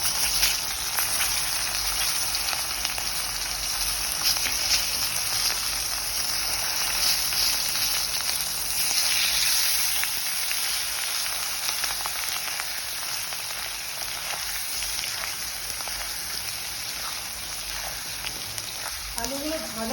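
Tomatoes frying in a pan for a Bengali-style broccoli curry, a continuous loud sizzle and crackle of hot oil that persists evenly throughout, close up, with occasional stirring.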